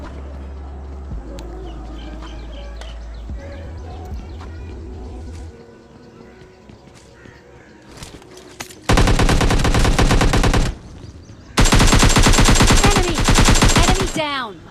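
Two long, loud bursts of rapid automatic gunfire from PUBG Mobile Lite, a battle royale game, break in after a quieter stretch with faint ambient game sounds, each burst lasting a few seconds.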